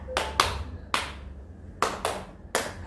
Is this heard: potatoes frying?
no